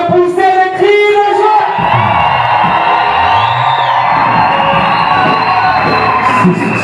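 A church congregation at a wedding blessing celebration bursts into loud whoops, cheers and shouts of joy, a dense crowd roar rising and holding steady throughout.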